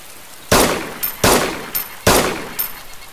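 Gunfire from a weapon with heavy recoil in the zombie survival game DayZ Standalone: three loud, sharp shots about three-quarters of a second apart, each with a short echoing tail, with no talk over them.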